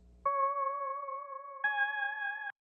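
A bright, simple synth melody plays two clean sustained tones, the second stepping higher, with a clear ringing timbre that cuts off abruptly.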